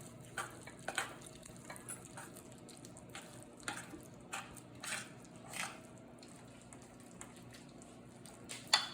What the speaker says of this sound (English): Now we're going to stir these together.